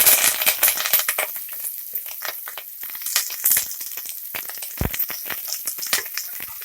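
Mustard seeds, cumin, onion and curry leaves fry in hot oil for a Kannada drumstick-leaf dal sambar, a close, busy sizzle laced with dense crackles, spatters and one deep thump.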